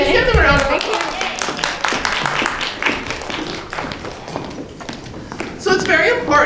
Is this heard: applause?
yes